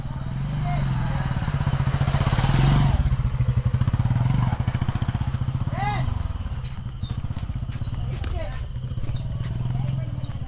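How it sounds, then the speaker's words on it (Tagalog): A motorcycle passes along a village road in Barangay Malbogon, Libmanan, Camarines Sur, its engine putting close and loud, peaking early and fading as it moves away, with people talking nearby. "Oh, may motor, may motor."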